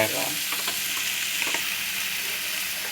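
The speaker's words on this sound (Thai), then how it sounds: "ผัดให้เข้ากันครับ หอยนี้เราก็สุกอยู่แล้วนะฮะผัดให้เข้ากันนะครับ" Mussels and long beans stir-fried in a hot wok for a fresh chili dish, a steady close sizzle broken by scraping stirs and clatter, with no talking.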